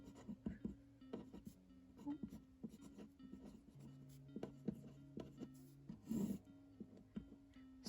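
A pen writes on paper while a monthly budget is worked out, giving soft, close scratchy strokes in short irregular bursts with a quiet pause in the middle, no talking.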